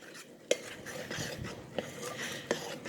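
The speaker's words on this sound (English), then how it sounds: "I'm just getting a spoon so that I can stir this" A spoon stirs yeast roll ingredients in a bowl, giving soft continuous scraping with three sharp metallic clinks against the dish, close and alone with no talking.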